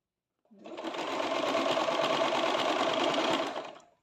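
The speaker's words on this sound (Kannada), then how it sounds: "ಈ ಒಂದು ಸ್ಟಿಚ್ ಹಾಕೋಣ ನೀಟಾಗೆ" A sewing machine stitching the side seam of a churidar runs in one steady, loud whirring burst of about three seconds, close up, starting and stopping cleanly with no voices over it.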